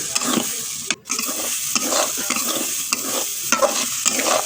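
Brain pieces frying in a pan are stirred again and again, a steady close sizzle with repeated scraping strokes and one short break near the start; no one talks.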